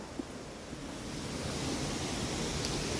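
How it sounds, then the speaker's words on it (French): A waterfall roars as a dense, steady broadband rush at close range, unbroken throughout with no voices. "La fabuleuse cascade est juste là."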